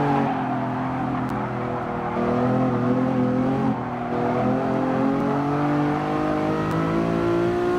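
A Lamborghini engine in Gran Turismo Sport at Tsukuba Circuit drones steadily with a sustained revving whine, its pitch rising and dipping as the car accelerates, loud and continuous with no talking.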